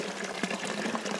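Cold water runs steadily from a fountain beside a mountain hut in the Black Forest, a close, continuous splashing rush with no talk.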